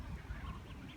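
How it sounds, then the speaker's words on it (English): Ducks quack softly by a river where ducklings are present, faint and somewhat distant against low background noise. "There's some more ducklings."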